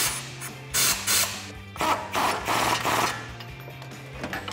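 A pneumatic air tool tightens a bolt while a front leveling kit is installed on a 2009-2021 Ram 1500 pickup, firing in several short, loud hissing bursts separated by brief pauses, close by.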